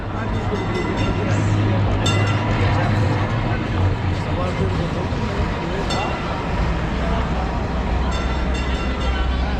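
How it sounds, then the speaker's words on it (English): A historic tram rolls along busy Istiklal Street in Istanbul, a loud continuous rumble and clatter of rail wheels with occasional metallic squeals and bell-like clinks, while crowd chatter and voices carry throughout. "Historical tramway came again."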